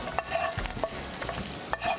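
Hot tempering is poured over steamed soaked poha on a steamer plate, crackling and sizzling as a spoon stirs and scrapes through it in quick, close strokes.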